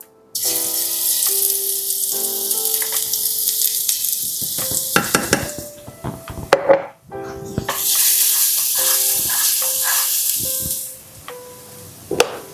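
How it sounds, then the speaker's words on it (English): Garlic frying in a pan for beef fajitas: a bright, loud sizzle punctuated by utensil clinks and stirring scrapes, dropping out briefly midway before the hiss returns strongly. "I'm going to add a little bit more of the garlic here"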